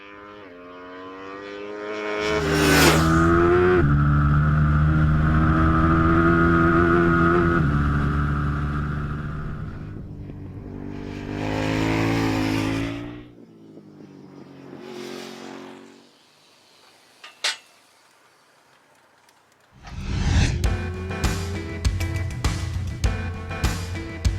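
Middleweight supersport motorcycles scream past on a race track, each high-revving engine swelling loudly and fading as it passes, with several separate pass-bys, gaps of quieter engine noise between, and a final bike accelerating hard with rapid gear changes.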